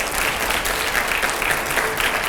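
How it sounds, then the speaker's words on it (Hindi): Steady, dense applause from a TV studio audience at a political talk show with a Delhi chief minister and editors, clapping loud and continuous throughout with no voices. "जोरदार तालियां पहले।"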